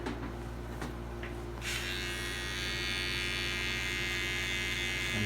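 An electric foil shaver buzzes steadily and close by while finishing a bald fade haircut, with a continuous high whirring tone that barely changes, aside from a brief shift in pitch near the start.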